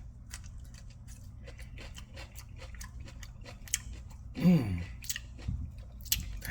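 Someone bites into and chews a boneless pork rib taco with waha chili seasoning and fajita vegetables, giving close, moist crunching and squishing with sharp crisp snaps; one short spoken word cuts in.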